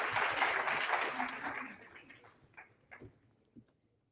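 Audience clapping for panelists at a tech conference, a brief burst of applause that quickly thins out into a few scattered claps and fades to near silence.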